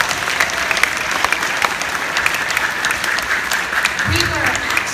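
Audience applause at a middle school play, a steady dense clapping wash lasting throughout, with a brief voice rising near the end.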